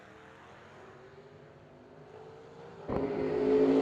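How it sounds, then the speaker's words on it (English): A Vega and a Camaro launch down a drag strip at a no-delay drag racing event; a faint engine drone builds, then jumps sharply into a louder, rising roar near the end. "The Vega going to be chasing after Robert Long's Camaro down"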